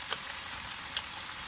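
Chicken pieces with tomato sauté in a pan for a Filipino chicken caldereta, giving a soft, even, close sizzle with faint crackles.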